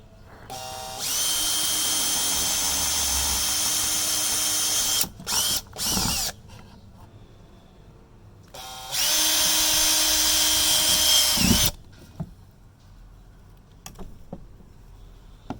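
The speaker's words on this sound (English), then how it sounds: "I got a 5/32 bit, and I'm going to drill them out." Power drill fitted with a 5/32 bit boring holes during a fish-finder install on a 2019 Hobie Outback kayak, two long loud whirring runs separated by short bursts and pauses, close and without talk.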